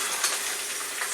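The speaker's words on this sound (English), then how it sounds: "I hear them sizzling" Beef hamburger patties sizzle on a stovetop, giving a steady, soft hiss of frying that stays even and fairly quiet throughout, with no voices.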